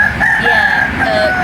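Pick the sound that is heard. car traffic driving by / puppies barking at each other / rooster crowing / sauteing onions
rooster crowing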